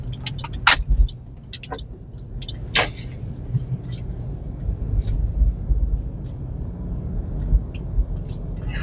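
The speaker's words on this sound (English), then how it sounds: "I'll make a U-turn right here." A car in Honolulu traffic rumbles low and steady through a U-turn, with clicks and clatter inside the cabin and a few faint voice fragments over the road noise.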